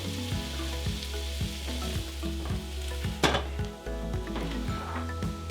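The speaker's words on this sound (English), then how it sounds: "And then I'm going to toss in my potatoes and stir them around for a little added flavor for those two." Potatoes and root vegetables stirred in a soup pot for beef barley soup: a steady sizzle with a regular beat of metal scrapes and knocks, one sharp clink near the end, close up and no talking.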